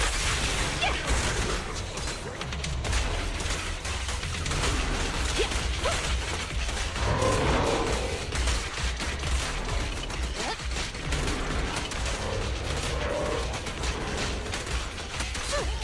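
Dense, continuous gunfire and impact crashes from the video game Zenless Zone Zero, rapid mechanical bursts layered with whooshes and clanks at a steady loud level throughout.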